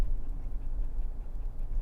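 A puppy pants inside a car, with soft, steady breathing close by over a low, constant rumble of road noise.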